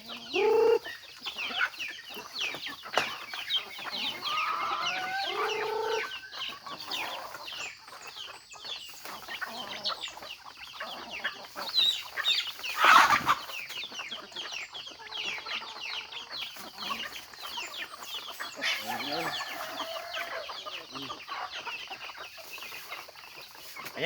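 A hen and her nine chicks being fed cracked corn mixed with feed, with constant high chick peeping and the hen's low clucks close by, the chatter continuous throughout.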